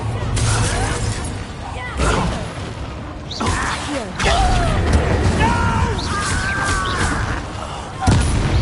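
Confringo fire spells explode in Hogwarts Legacy: several sharp, booming blasts at uneven intervals over a busy bed of game effects, with voices in between.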